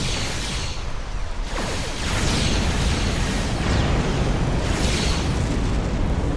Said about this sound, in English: We are just spraying cannons all over the place.